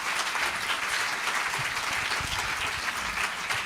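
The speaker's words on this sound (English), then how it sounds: "Please give them a round of applause." Steady audience applause at a discussion event, many hands clapping at an even, moderately loud level throughout with a faint rumble of crowd noise beneath.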